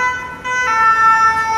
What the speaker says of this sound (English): Ambulances, guys.